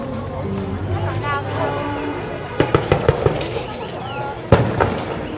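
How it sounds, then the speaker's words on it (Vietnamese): Firecrackers go off at a Lunar New Year flower market in Little Saigon, a quick run of sharp pops followed by one louder bang amid busy crowd chatter and voices. "Tiếng pháo."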